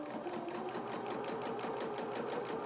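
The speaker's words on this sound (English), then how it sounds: "So let's just reverse stitch there." A domestic sewing machine runs steadily in reverse, stitching back over fabric at the start of a line of top stitching on doll-sized culottes, a fast even mechanical whir with rapid needle ticks, close and alone.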